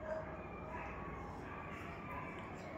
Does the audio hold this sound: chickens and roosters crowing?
no